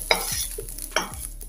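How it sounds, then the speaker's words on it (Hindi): Green peas are stirred and stir-fried in a pan for a vegetable curry of potato and cauliflower, giving two sharp scraping clinks of a spoon against the pan with faint sizzling between them and no talk. "हल्का सा 1 मिनट के लिए हम मटर को भी भून लेंगे।"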